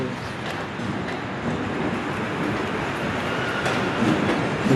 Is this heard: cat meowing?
no